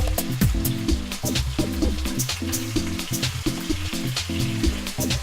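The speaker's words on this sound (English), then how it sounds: "So after the chicken gets brown, then we can put all the spices that we grind out." Chicken pieces fry with ground spices in a hot pan over high heat, with loud continuous sizzling and crackling and frequent clinks and scrapes from stirring, heard close up and without any talk.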